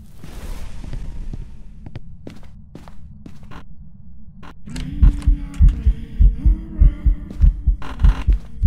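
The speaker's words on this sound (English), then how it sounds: "I'm getting heartbeats" Thumping heartbeat from the horror game Phasmophobia, a loud, steady double-pulse rhythm that starts midway and repeats about once a second over a low hum and scattered clicks.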